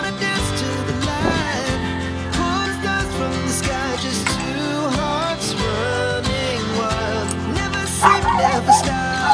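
Dogs bark repeatedly in quick bursts over music playing in the background, with a louder flurry of yips near the end.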